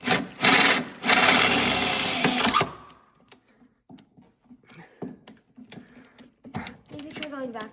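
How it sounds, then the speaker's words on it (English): A drill boring with a 1/4 inch bit through a snowmobile brake or chaincase cover, loud whirring bursts up close for a few seconds, then quiet with scattered clicks and talking. "You get a 1/4 inch drill bit."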